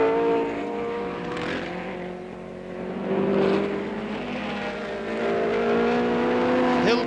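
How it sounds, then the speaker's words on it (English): 1968 Tasman Series race cars at Warwick Farm sweeping over the causeway, a sustained engine drone with rising and falling pitch as cars pass, steady and moderately loud with no talk. "Round they swing now, and it's the leader Jimmy Clark going over the causeway"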